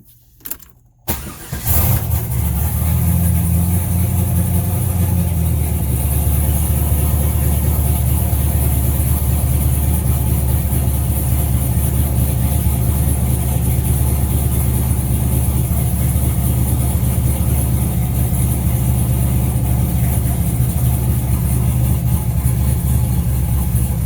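Chevrolet Camaro fitted with a Holly Terminator fuel injection system cranks and catches, then settles into a steady, loud, close idle that runs unbroken for over twenty seconds with no talking.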